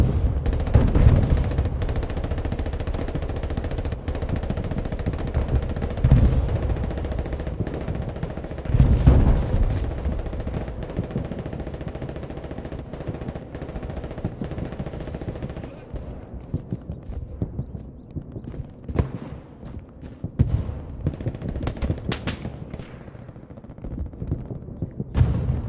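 Artillery and small-arms gunfire crack and rumble through a multiplayer wargame match between Sturm Elite and 20thPZG, with scattered sharp bursts over a steady battle din and a voice commentating over it.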